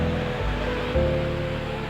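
A steady, close roar of falling water comes from a waterfall just past Noori waterfall on the route from Islamabad to Umbrella waterfall, a continuous rush with no voices.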